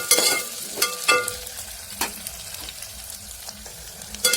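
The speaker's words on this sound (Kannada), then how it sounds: "ಟೊಮೆಟೊ ಮೆಣಸಿನ್ಕಾಯಿ ಹಾಕಿ ಸ್ವಲ್ಪ ಫ್ರೈ ಮಾಡಿದ್ವಿ." Tomato and green chili frying in a pan, a steady soft sizzle with occasional sharp stirring clinks and scrapes, close by and with no talk.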